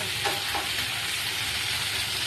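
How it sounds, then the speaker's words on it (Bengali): Potato and ridge gourd pieces fry in hot oil in a pan, a dense, steady close sizzle with a couple of faint stirring scrapes near the start. "একটু হালকা হালকা করে আলু ঝিঙে এগুলো ভেজে নেবো"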